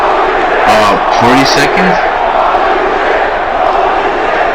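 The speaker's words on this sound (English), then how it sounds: "You can tell the crowd was very much shocked." Wrestling arena crowd at WrestleMania 5 roaring in shock, a dense, loud, steady wash of shouting voices throughout, with a brief spoken question cutting in near the start.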